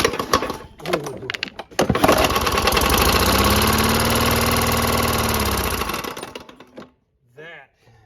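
A free lawn mower engine, likely run dry of oil, runs roughly for about four seconds after a sputtering start, loud and unsteady with a knocking, labored tone before it dies away.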